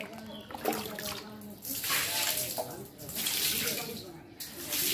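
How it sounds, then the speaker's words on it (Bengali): Water splashes and runs while the dirty floor area under a staircase is washed down, a steady rushing, splattering wash across the whole stretch with brief quieter dips. "আমাদের সিঁড়ির নিচটা একদম ময়লা হয়ে আছে, তো আমি এখন পানি দিয়ে পরিষ্কার করে ধুয়ে দেব।"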